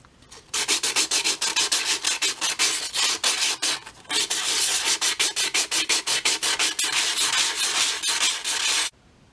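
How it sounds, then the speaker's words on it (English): Sandpaper rubbed rapidly back and forth over a cut plastic container being made into a dinosaur planter, a loud, close, steady scratchy rasp of quick strokes with one brief pause midway. "it's now time to sand it down"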